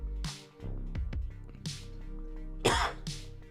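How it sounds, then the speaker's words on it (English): One person coughs and clears their throat several times in short, close bursts with brief pauses between them. "Gotta stop coughing."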